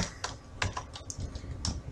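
Typing HTML code on a computer keyboard, quick uneven key clicks and taps close by, about a dozen strokes in under two seconds with no voice.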